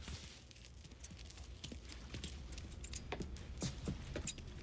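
A bunch of keys jangling in Mafia III: quiet, irregular metallic clinks and rattles repeat throughout over a low background rumble, with no talking.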